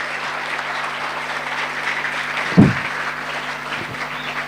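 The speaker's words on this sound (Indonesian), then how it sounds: "Tepuk tangan untuk Bata-Bata." An indoor audience at a religious history gathering gives steady, moderately loud applause from start to finish, with a single thump partway through.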